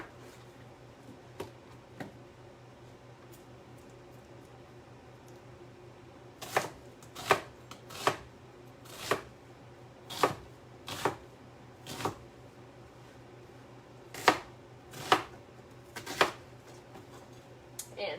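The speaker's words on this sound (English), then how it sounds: "so basically we're just kind of dicing the onion." Knife chopping an onion on a cutting board for a soup: a series of sharp, fairly close taps, sparse at first and then a steady irregular run of about a dozen strikes over a low background hum.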